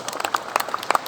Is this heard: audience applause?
yes